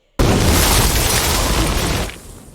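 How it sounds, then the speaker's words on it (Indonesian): A sudden, massive explosion bursts in at full loudness, roaring with deep rumble for about two seconds before quickly fading away. "ledakan dahsyat terjadi"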